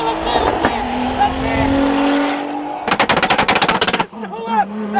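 A Nissan GTR's engine revs hard, loud and close, then breaks into a rapid machine-gun-like crackle of pops from the exhaust with flame-tune, ending in a lower idle.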